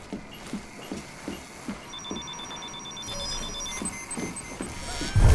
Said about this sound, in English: Hitting the alarm!